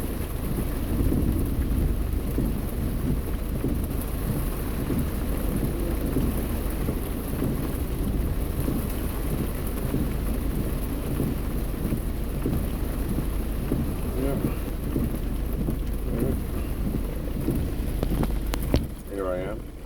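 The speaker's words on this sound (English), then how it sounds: "Who expected this rain?" Steady rain patters and rushes around a car being driven through a storm, a dense continuous wash with low rumbling underneath and faint talking in places.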